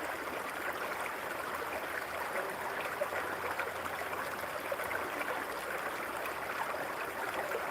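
Water flows steadily in a forest stream, a continuous rushing wash that stays even and moderately loud the whole time.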